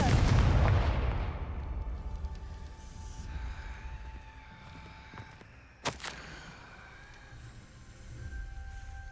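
A Confringo explosive spell is cast in the video game Hogwarts Legacy, producing a deep booming blast that rumbles and fades, then a sharp crack midway, with no speech.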